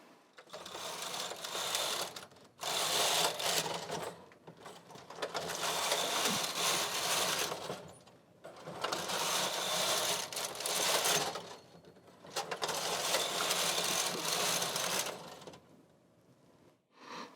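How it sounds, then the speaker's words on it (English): A knitting machine carriage knitting a Fair-Isle punch-card pattern is pushed back and forth in four even passes, each a soft rattling whir lasting a few seconds, separated by short quiet pauses. "So we just keep doing that back and forth until the length you like."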